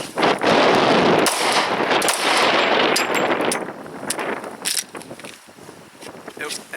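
A Glock 22 Gen 2 pistol fires a rapid string of sharp, loud shots outdoors, cracks bunched close together early on, then sparser single shots as the firing trails off.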